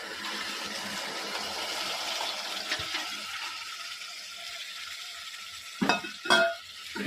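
Soaked green gram stirred into a spiced mixture frying in a pan for pudina paratha filling, a steady close sizzle with a couple of louder scraping stirs near the end, no talk.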